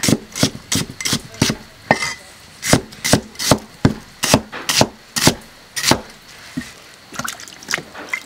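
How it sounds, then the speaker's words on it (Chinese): A knife chopping onions on a board for a grilled fish dish, each cut a sharp knock in an uneven run of about twenty, close and fairly loud, with no talking. "洋葱切起来"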